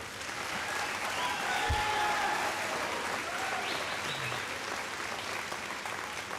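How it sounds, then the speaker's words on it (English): Sustained audience applause fills a high school athletic awards ceremony, a dense, even roar of many hands clapping from a large crowd, holding steady throughout. "I think that deserves a round of applause."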